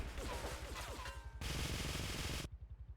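Gunfire from an unfamiliar weapon in Grand Theft Auto 3 crackles in a loud, dense rapid burst. Steady sustained firing follows, then gives way to a thinner, pulsing rattle.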